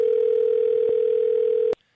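A telephone call tone sounds as one loud, steady electronic tone held for almost two seconds before it cuts off abruptly into near silence.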